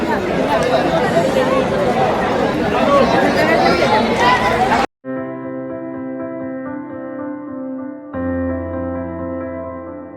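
A dense crowd of devotees murmurs and chatters at the Jejuri temple fort, a loud, steady babble that cuts off abruptly halfway through, followed by sustained tonal music.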